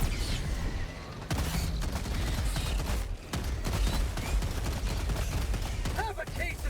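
Rapid bursts of Incendiary Breaker shotgun fire in Helldivers 2 battling bug swarms, dense overlapping blasts with brief pauses, loud and close, mixed with a speaking voice and chaotic combat noise.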